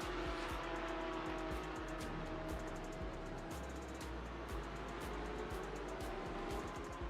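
A race car in a racing video game loses the back end on early throttle and spins around, a steady engine drone with faint tire squeal throughout, no talk.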